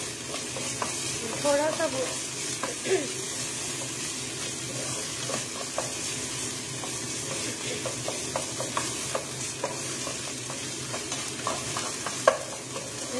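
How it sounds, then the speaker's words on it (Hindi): Finely chopped onion fries in a pan with a continuous sizzle and scattered clicks of stirring, fairly quiet and close, while a voice speaks briefly over it. "बारीक कटा हुआ प्याज डाल देती हूँ उसमें।"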